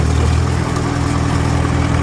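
An antique tractor engine runs steadily with its PTO shaft spinning, a continuous low chugging drone that stays loud and close throughout.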